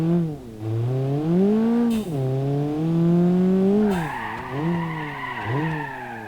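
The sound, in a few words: car drifting with tire skid in BeamNG.drive video game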